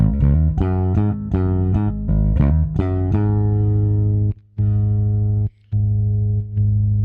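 Deep electric bass notes, with both pickups blended, are plucked in a quick run, then a single low note is held and sustained, with brief gaps before it rings again.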